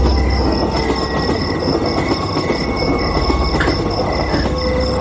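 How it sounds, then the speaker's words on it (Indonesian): A train rolls past a level crossing up close, a dense steady rumble of wheels and carriages with metallic squeals and clinks throughout, loud and continuous. "kereta api itu benar-benar datang dan melintas"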